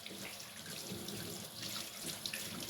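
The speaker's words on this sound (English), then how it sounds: "So just give it a rinse." Coconut oil and tea tree soap rinsed under a running tap, with a steady broadband rush of water splashing into a sink throughout, fairly faint and without any talk.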